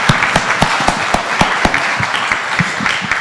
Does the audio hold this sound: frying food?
no